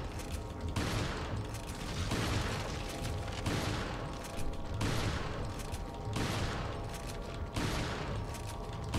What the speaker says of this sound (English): Alright, shotgun time.